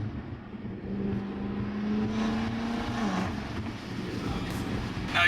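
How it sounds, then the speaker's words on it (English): Modified BMW M5 engine with turbos accelerating, a steady rising drone heard from inside the car with a whining pitch climbing then dropping, fairly loud and continuous throughout. "And you can hear the turbos."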